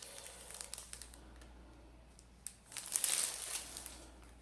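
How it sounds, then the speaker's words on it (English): Plastic sleeve around an HO scale model train box for LRC passenger cars crinkles and crackles in short, close handling bursts, quiet at first and busier toward the end, with no talking. "Packaging it's got a plastic sleeve around the box to protect the box"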